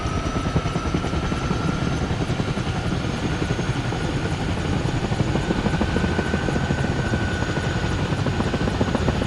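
Helicopter flying in a training session of a military video game, with a steady loud rotor thrum and engine whine running continuously, no talking.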